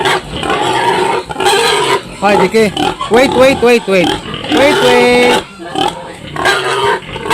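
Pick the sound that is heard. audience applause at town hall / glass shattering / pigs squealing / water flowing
pigs squealing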